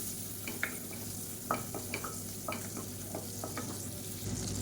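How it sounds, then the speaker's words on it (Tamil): Fennel, curry leaves and mint sauté in hot butter for a soup, with a steady sizzle broken by repeated scraping clicks as a spoon stirs the pan, close and moderately loud. "நல்லா வதக்கி விட்டுக்கலாம்."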